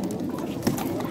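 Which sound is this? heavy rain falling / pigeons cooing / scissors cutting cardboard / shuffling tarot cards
pigeons cooing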